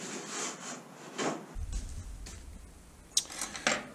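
A rabbet plane shaves a bevel along a wooden hull bottom piece for a small boat, producing soft rhythmic rasping strokes close by, with a few light knocks near the end.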